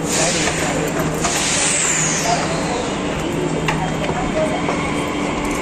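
A Delhi Metro train pulls into the station with a steady rumbling roar and a brief high hiss near the start, heard under people talking on the platform.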